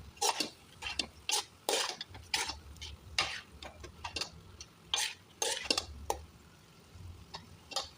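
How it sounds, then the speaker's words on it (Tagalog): Tuna fish fries in a pan for biryani while a utensil stirs and clinks against the metal, giving irregular close taps and scrapes over a faint low sizzle, with no talk. "Pinipirito, pinipirito ko muna para luto talaga siya."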